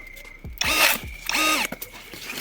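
A LEADER Optimal BL20-30D cordless battery pruner cutting a young branch at night, with two loud, close motor whirs that rise and fall in pitch, each lasting about a second, separated by a short pause.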